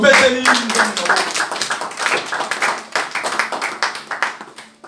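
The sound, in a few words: congregation clapping to acclaim Christ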